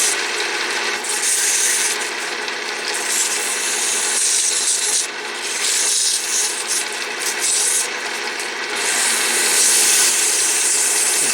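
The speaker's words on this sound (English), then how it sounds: "Okay, so we're going to do a finer sandpaper now." Wood is sanded by hand with fine sandpaper, giving a continuous close hiss of rough rubbing strokes that rise and fall slightly and run alone throughout.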